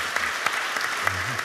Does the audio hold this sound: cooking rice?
no